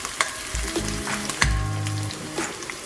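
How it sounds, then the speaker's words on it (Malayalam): Onion, ginger, garlic and curry leaves sizzle in hot oil for a watermelon rind pickle, with steady close frying crackle and a few stirring scrapes and clinks of a spoon against the pan. "ഈ ഉള്ളിയും ഇഞ്ചിയും വെളുത്തുള്ളിയും എല്ലാം കൂടെ നന്നായി ഒന്ന് വഴന്ന് കഴിയുമ്പോഴത്തേക്ക്"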